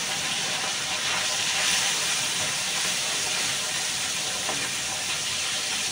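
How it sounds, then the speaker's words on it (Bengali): Fish frying in hot oil in a wok, a steady close hiss and sizzle that holds at an even level throughout with faint crackles. "তেল গরম হয়ে গেছে, দিয়ে দিলাম মাছটা।"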